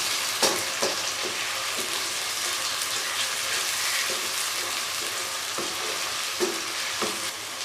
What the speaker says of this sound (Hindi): अब टमाटर को हम इतना पकाएंगे कि टमाटर अच्छे तरीके से गल जाएं